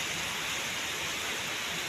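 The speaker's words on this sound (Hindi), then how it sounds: "सुबह से लेके शाम हो गई और बारिश ऐसी की ऐसी है।" Heavy, continuous rain pours down during an all-day downpour in Delhi, a dense, even hiss that fills the whole moment loudly and close, with no voices over it.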